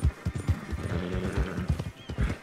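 In Red Dead Redemption 2, a horse lets out a loud, close neigh over a quick run of clip-clopping hooves. The hoofbeats keep a brisk, uneven rhythm throughout.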